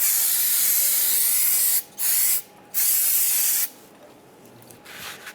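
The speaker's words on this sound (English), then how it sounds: "Spray this down." Aerosol brake cleaner sprays onto a brake rotor during a front brake job on a 1995-2001 Ford Explorer, three loud hissing bursts separated by short gaps, then quieter handling.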